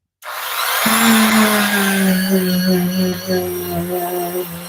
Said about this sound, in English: Just polishing up that J.H. Russell.